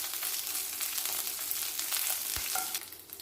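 Dried red chilies and curry leaves sauté in a pan for lemon rice, giving a dense, close hiss of frying with a single knock against the pan before the sizzle eases at the end.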